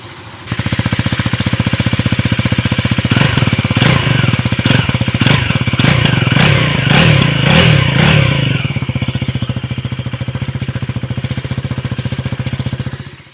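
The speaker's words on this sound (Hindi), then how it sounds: "अब चलिए इसके ना एग्जॉस्ट सुनते हैं। एग्जॉस्ट का साउंड आप मेरे को कमेंट सेक्शन में बताइए कि आपको कैसा लगा।" A KTM 390 Adventure single-cylinder motorcycle with an underbelly exhaust idles with a fast, choppy beat, then revs in several sharp bursts before settling back to idle, loud and close with no talk.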